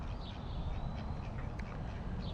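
Ducks quacking in a park, faint and distant over steady background noise, with a few scattered calls.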